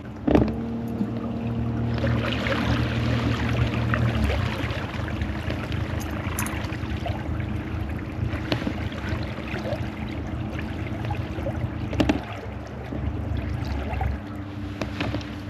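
A float tube bellyboat trolling slowly across a cold-water harbour in the UK, pushed by a Minn Kota saltwater electric motor: a steady close hum with water lapping and sloshing, wind buffeting, and occasional knocks.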